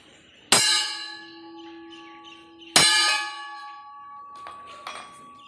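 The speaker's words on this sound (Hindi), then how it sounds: "अब 2 घंटी लगाकर संकेत दिया जाता है कि यज्ञशाला में ब्रह्मचारियों की उपस्थिति ली जाए।" Two loud bell strikes about two seconds apart at a gurukul, signalling attendance at the yajnashala, each ringing out with a long metallic decay, followed by faint clinks.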